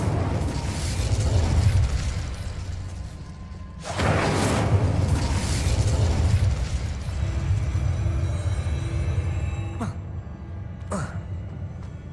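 A fire spell cast in Hogwarts Legacy bursts out with a loud whooshing boom over busy game effects, followed by a second roaring burst and a couple of sharp cracks, with a voice talking throughout.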